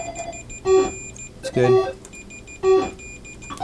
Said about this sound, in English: Beeping is good.